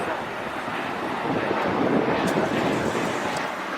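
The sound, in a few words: Viva Aerobus Airbus A321 airplane passing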